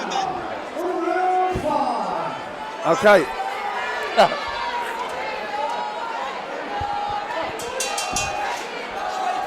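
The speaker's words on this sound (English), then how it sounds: "when you hear the crowd getting into it" Crowd at a Muay Thai fight night cheers and shouts around the ring, a steady murmur with a few sharper bursts and yells rising above it while a commentator's voice talks over the noise.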